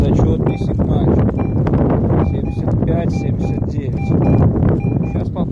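Strong outdoor wind buffets the microphone at the edge of a forest during metal detecting, a loud continuous rumble with short repeated electronic detector beeps on top.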